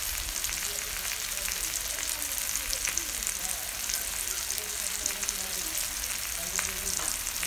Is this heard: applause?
no